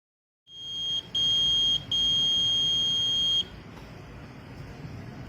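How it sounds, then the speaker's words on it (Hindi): A homemade rain alarm built from a water sensor, buzzer and charging module gives a loud, steady high-pitched electronic beep with two brief breaks, then cuts off, leaving a low background hum. "ये हमारा रेन अलार्म बन गया है"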